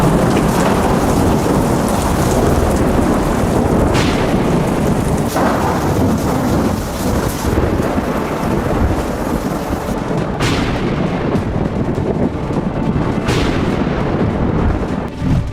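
Heavy thunderstorm over a Gulf region, with a steady loud roar of downpour and several booming thunderclaps rolling in at intervals, continuous and close throughout.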